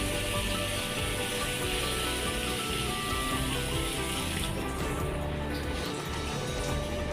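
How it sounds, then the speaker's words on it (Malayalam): Three cups of water poured into a pot of Kerala chicken curry, a continuous splashing, gurgling rush of liquid heard close and steady throughout, with no voices. "3 കപ്പ് വെള്ളം ഒഴിച്ച് കൊടുക്കാം."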